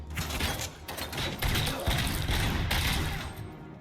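Dense gunfire from the video game RoboCop: Rogue City, a fast run of close, loud shots and bursts that overlap into a continuous barrage with mechanical clanks, lasting the whole stretch.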